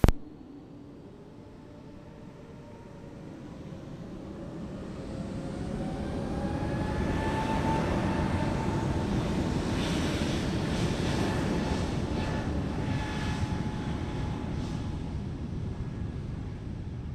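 A Frontier airliner taking off from runway 07 at a Jamaican airport, a distant jet roar that swells over several seconds and holds steady with a faint rising whine, heard alone.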